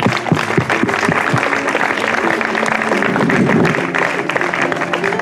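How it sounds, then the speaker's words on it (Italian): An audience claps steadily for a Don Quixote performance, many hands making a dense, lively patter that continues at a constant level, with some crowd murmur mixed in. "Un applauso al Don Chisciotte e a Gian Lorenzo, per favore, grazie."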